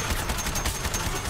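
Rapid gunfire in the Suicide Squad: Kill The Justice League video game, a dense continuous burst of shots filling the moment at steady loudness, with no talk over it.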